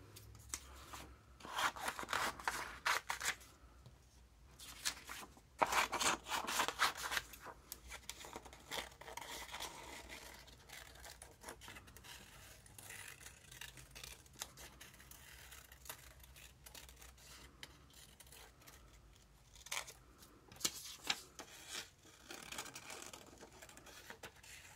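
Scissors snip through stamped paper images in Dina Wakely's style for a mixed media art piece, with close, quiet bursts of cutting and rustling paper, some louder spurts, no talking.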